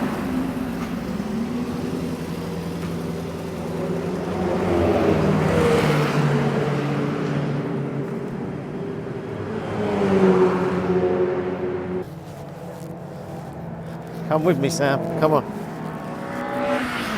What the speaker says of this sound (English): So here he comes, and he's just warming up the car now